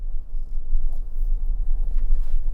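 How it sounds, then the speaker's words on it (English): A stock Suzuki Jimny creeps slowly down a steep, muddy off-road hill under braking, giving a steady low engine rumble close by with no talking. "Now I'm going very slowly braking down this hill because it's quite steep."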